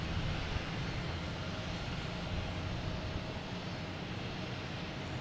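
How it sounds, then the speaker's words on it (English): A United Airlines Boeing 737-900 takes off at Boston Logan Airport, its jet engines producing a steady, loud broadband roar that holds evenly throughout with no talk. "Get United Airlines taking off, heading to Dulles, 737-900."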